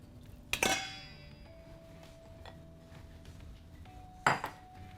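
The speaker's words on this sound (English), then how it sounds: "What I'm gonna do is transfer it into a bigger bowl over here." Batter goes from one bowl into a bigger bowl, with two sharp ringing clinks of bowl and metal utensil several seconds apart and quiet handling noise between them.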